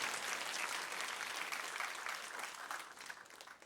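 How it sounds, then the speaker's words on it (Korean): Church congregation applauding an elderly member during a sermon: dense, steady clapping from many hands that slowly tapers off, with no talk over it. "박수 한번 쳐드리세요"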